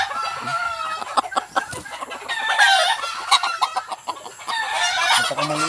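A small labuyo rooster, a native junglefowl cross with dark legs, crows and clucks close by in repeated short bursts, the calls broken by brief pauses and faint background noise.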